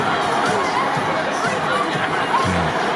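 A sports-field crowd cheers a naked man in a dense, continuous roar of voices and chatter heard from within the stands, with scattered shouts and laughter rising through it.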